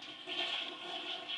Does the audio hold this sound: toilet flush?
yes